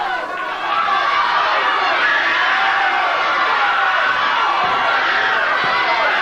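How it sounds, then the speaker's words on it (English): A 1989 CWA Memphis professional wrestling arena crowd roars and cheers steadily throughout, a dense sustained wash of many voices shouting with scattered louder yells, with no commentator talking over it. "Well, the crowd backs him up"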